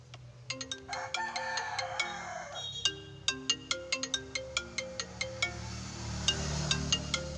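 An iPhone 11 Pro Max speaker plays a bright melodic ringtone, a run of quick repeated tonal notes with a steady rhythm, loud and close, with no talking over it.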